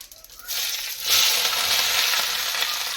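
Cumin and garam masala hit hot oil for chana masala, bursting into a bright, crackling sizzle about half a second in that swells louder after a second and then holds steady and close.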